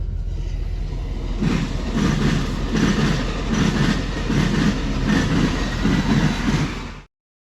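A train rumbles steadily past at close range, with rhythmic clattering of wheels over the rails in repeated bursts until the sound cuts off.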